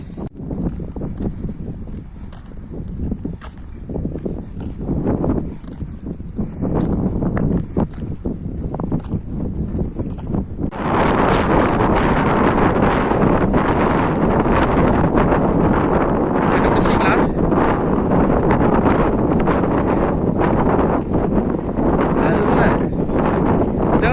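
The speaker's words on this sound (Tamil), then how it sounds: "கேட்குதா தெரியல, செம்ம காற்று." Strong outdoor wind roars against the microphone as a walker steps along, gusty at first and then a dense, constant rush for the second half.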